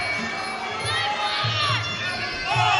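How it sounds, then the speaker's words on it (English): A crowd at a kickboxing fight cheering and shouting in waves, swelling louder toward the end, with a busy roar of many voices but no single clear speaker. "the crowd absolutely loving it"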